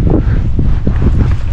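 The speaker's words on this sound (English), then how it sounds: "It is windy" Steady, loud wind buffets the microphone outdoors on a windy backcountry motorcycle route in Washington, a continuous low roar with gusty fluctuations and no speech.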